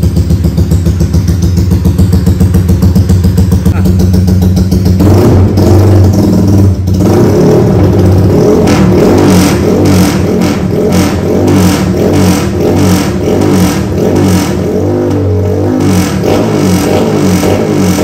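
Yamaha Y15 motorcycle on a dyno, its engine loud and close, idling with a rough lumpy rhythm before being revved repeatedly in rising, rasping bursts with clattering mechanical noise.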